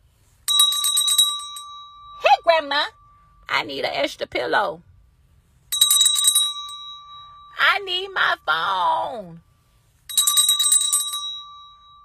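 Small hand bell rung at a sickbed at home, three bright jangling bursts of rapid strikes spaced several seconds apart, each leaving a short ringing tail, close and loud, with a person talking in the gaps between rings.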